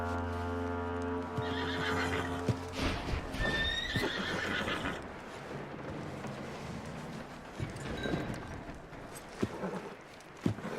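A horse in Red Dead Redemption 2 lets out a long, loud whinny up close, followed by snorts, hoof clip-clops and scattered tack and movement noises.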